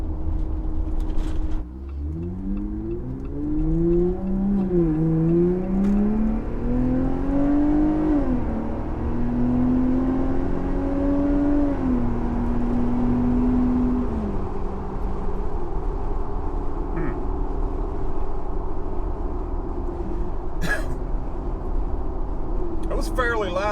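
Jeep Wrangler JL fitted with a Flowmaster high-clearance cat-back exhaust cruising at highway speed, a loud continuous low engine and exhaust drone with road noise, rising and falling in pitch as it accelerates and shifts.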